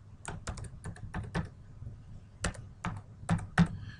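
Keys tapped on a computer keyboard while a password is entered, close and clear, in two bursts of quick irregular clicks separated by a short pause, with no talking.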